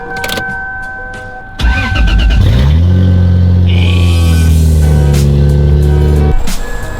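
1JZ-engined drift car starting up: a few clicks and cranking, then the engine catches at about one and a half seconds with a loud burst and settles into a rough, loud idle nearby, no voices.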